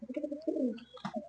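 Palakkad pigeon cooing in a loft, a few rolling coos close by, followed by a brief higher chirp, with no voices.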